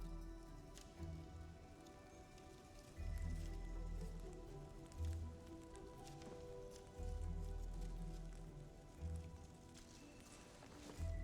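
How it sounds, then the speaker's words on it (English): Steady splattering rain in the video game Arknights Endfield, a dense patter falling on surfaces, with softer surges at intervals; faint and continuous, with no voices over it. "Splattering rain."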